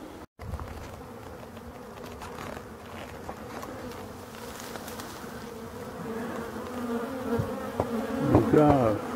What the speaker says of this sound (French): Donc là, ce sont des nouvelles abeilles.